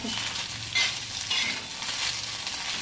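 Anda bhurji, Maharashtrian-style scrambled eggs, frying and being stirred in a pan: a continuous close sizzle with several soft scraping stirs spread through, no talking.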